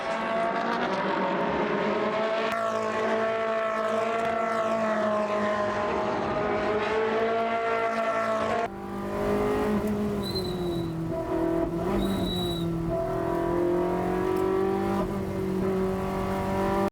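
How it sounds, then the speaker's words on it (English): Ferrari Challenge Trofeo Pirelli race cars roll around Mugello on a formation lap, a dense layered engine drone from several cars at steady revs, shifting in pitch as the pack passes, loud and continuous with no talk. "they're away on their formation lap for race 2 in Trofeo Pirelli here at Mugello"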